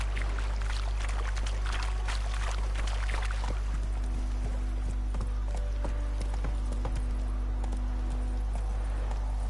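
Video game horse trotting near a village, a steady clip-clop of hooves in a quick even rhythm, moderately close and fairly quiet, with a faint low hum underneath.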